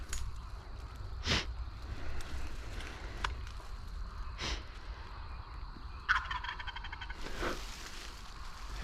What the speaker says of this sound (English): He's gobbling his ass off.